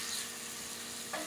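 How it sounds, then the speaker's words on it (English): Kimchi stir-frying in a pan gives a soft, steady sizzle with one short stir scrape near the end, heard quietly and alone. "we just stir fry the kimchi just a little bit"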